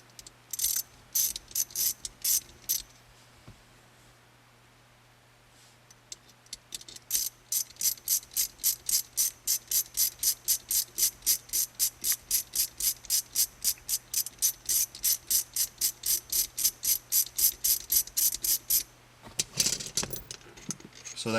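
A hand ratchet unscrews a bolt during a BARTON shifter install on a 2015 Mustang. Rapid, regular clicking runs steadily for over ten seconds after a few shorter bursts, ending with a clunk of handling.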